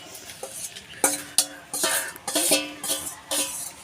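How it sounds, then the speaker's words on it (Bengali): Marinated chicken pieces scraped and poured into a metal pressure cooker give a series of soft wet thuds and clinks of utensil against pot, close and moderately loud, without speech. "এবার এই মাখা মাংসটা আমি প্রেসার কুকারে ঢেলে দেবো।"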